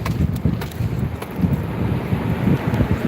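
The VFD-driven blower of a Carrier rooftop unit runs with a steady, broad whooshing rush of moving air, continuous and fairly loud, with light wind buffeting on the microphone.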